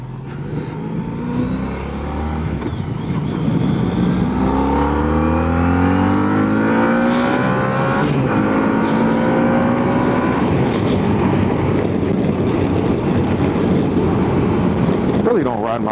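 A motorcycle at highway speed captured through a DJI Mic Mini helmet mic: engine note climbs through rising gears under a constant roar of wind rush, loud and continuous throughout.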